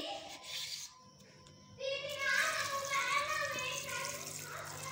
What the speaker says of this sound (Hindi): अब हम इनमें पानी डाल देंगे।